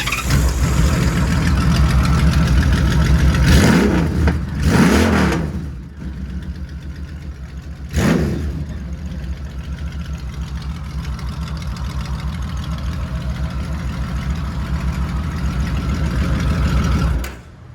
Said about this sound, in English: This is definitely the best sounding Honda Cruiser ever made.